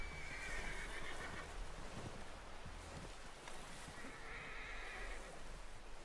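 A horse in Red Dead Redemption 2 answers a call with two distinct whinnies, moderately close, over a windy outdoor game ambience with faint hoof sounds.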